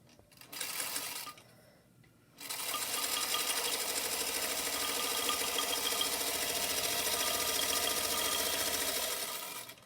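Sewing machine stitching a quarter-inch seam in face mask fabric, a short whir, a pause, then a steady loud continuous motor hum that runs to the end.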